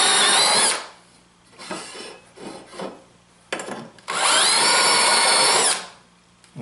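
A drill countersinks holes in wood for a multifunction table workbench, three loud whining bursts with quieter scraping and cutting in between, the last run the longest.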